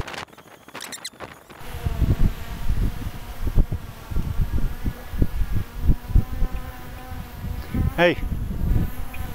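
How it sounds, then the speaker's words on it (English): A DJI Mavic Air 2 drone flying nearby outdoors, giving a continuous insect-like buzzing drone under gusty wind rumble, with a brief spoken word early on and a short squeal near the end. "You still flying your drone?"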